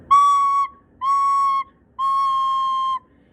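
Three sustained, slightly airy whistle-like recorder notes at the same pitch, played with fingers not fully covering the holes, each held about half a second to a second with short gaps between them.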